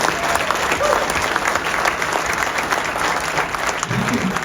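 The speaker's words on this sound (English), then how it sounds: "So let's give Sean a round of applause" A crowd applauds a volunteer award winner, with dense, steady clapping from many hands that holds at an even, fairly loud level throughout. A brief low voice comes in near the end.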